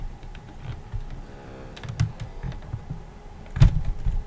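Clicky button presses on an Atari 2600 controller, a few close, sharp taps and clunks scattered irregularly over a quiet room background, with one louder press near the end.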